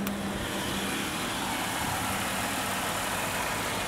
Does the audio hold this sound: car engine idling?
yes